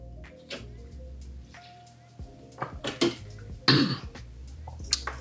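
A burst of coughing near the end, preceded by faint clinks and small handling noises; no speech.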